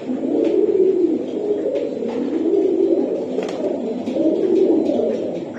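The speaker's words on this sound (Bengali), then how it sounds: "এটা ভাই হোয়াইট কালারের পারবিন কবুতর" White Parvin pigeons coo in repeated soft, throaty rolls, one phrase after another, close by and clear with no talk over them.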